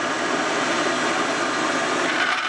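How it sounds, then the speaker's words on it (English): Bandsaw cutting a propeller blade for a steampunk dirigible ornament, a loud, steady whining buzz that holds constant throughout, close and without speech. "it's off to the bandsaw."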